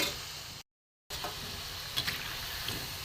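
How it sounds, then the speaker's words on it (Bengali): Food frying in a pan for a homemade sweet gives a steady soft sizzle with faint stirring scrapes, briefly cut to silence and then resuming at a quiet, even level. "একটু ভালো করে ভেজে নেব।"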